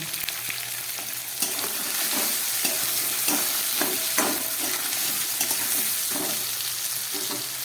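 Broccoli, beans and tomato fry in a pan with a steady, close sizzle and scattered scraping stirs throughout.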